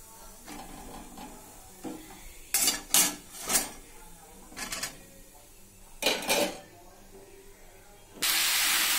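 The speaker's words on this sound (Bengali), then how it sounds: "আমি কড়াইতে তেলে সর্ষে দিয়ে দিয়েছি। দিয়ে আমি আমার ডাবু হাতা দিয়ে ওটাকে ফাটিয়ে নিয়েছি যাতে না ফোটে, কারণ সর্ষেগুলো তেলে দিলে ভীষণ ছেটে।" Mustard seeds spluttering in hot oil in a wok while being stirred with a ladle: sharp crackling bursts and scraping clatters come in uneven clusters over a quiet hiss, ending in a loud sustained sizzle.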